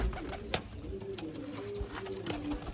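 Pigeons, including a grey hen bred as a breeding pair, coo softly in a few drawn-out, wavering calls, with scattered sharp clicks and taps nearby.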